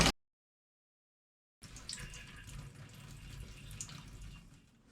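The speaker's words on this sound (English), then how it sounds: "Now with the well turned off, we want to bleed off any remaining water that's inside the lines." Tap running to bleed the remaining water from an off-grid house's lines after the well pump is shut off, a steady broadband rush of flowing water starting after a short silence and continuing at moderate level.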